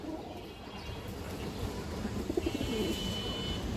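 Pigeons at a market stall coo softly and repeatedly, a low murmuring burble amid steady background noise.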